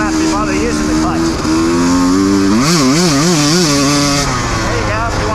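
A 150 motorcycle fitted with a Rekluse auto clutch revs loudly and up close, its engine pitch climbing and wavering through several quick rises and falls over a steady idle, with no other sounds over it.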